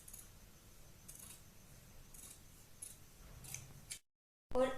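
Scissors snipping through the fabric neckline of a baby frock, several faint close cuts and light metallic clicks, ending with a brief silence and a sudden louder handling noise.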